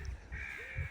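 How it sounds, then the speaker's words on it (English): Crows cawing outdoors at an open grassy spot by a church, a few harsh caws standing out against softer background birdsong, moderately near and clear with no talking. "And listen to all these birds."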